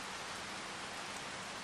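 Steady, even rainfall in the Farming Simulator game on a Michigan prairie farm, a soft continuous hiss with no breaks or voices, fairly quiet throughout.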